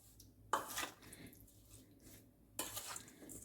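Yogurt marinade for chicken tikka being stirred in a bowl, with two short bursts of spoon scraping and clinking against the dish separated by near silence, close and fairly quiet.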